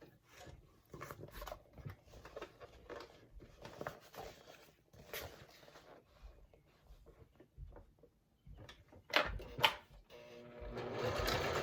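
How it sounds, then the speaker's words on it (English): A domestic sewing machine stitches through a thick vinyl pouch, its soft rapid whirring coming in short runs at low level with pauses, then louder bursts toward the end. "And I'm just going to sew across."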